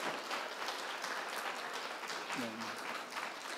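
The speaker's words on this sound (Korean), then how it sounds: "우리 잠깐 우리 박수해 주시기 바랍니다" A church congregation at a Korean Sunday worship service in Düsseldorf claps together in steady, dense applause that fills the room for the whole stretch, with a brief murmur of voice partway through.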